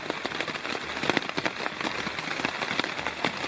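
Steady rain patters on a tent in the Great Smoky Mountains, a dense, even hiss of drops with scattered louder taps close by, continuing throughout with no voices.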